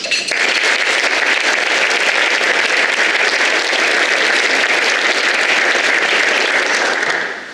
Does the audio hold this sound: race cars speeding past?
no